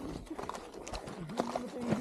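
A horse walks on a trail near Kolsai Lake, its hooves clip-clopping in an uneven rhythm close by, while people talk over the steps.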